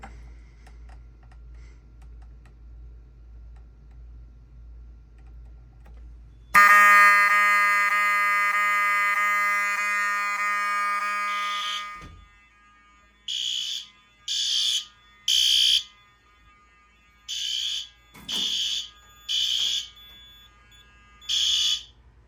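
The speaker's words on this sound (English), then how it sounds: "We have 4 fire alarms in here." A fire alarm blares a steady electronic tone for several seconds during a system test, then falls silent, followed by a series of short, evenly spaced beeping bursts.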